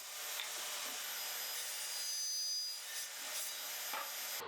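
Small wood pieces are sanded with a steady, close abrasive whir that holds evenly for a few seconds, dipping briefly before stopping at the end.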